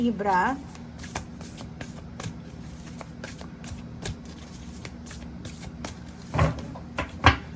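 Tarot cards are shuffled by hand in a series of soft riffles and taps, with scattered handling sounds and a brief louder rustle near the end.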